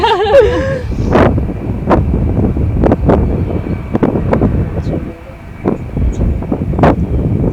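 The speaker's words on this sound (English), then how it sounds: "Wind and train, not a good one." Wind rumbling against the mic while a train passes nearby in Hartsville, South Carolina, with a string of sharp knocks and rattles spaced through the rumble.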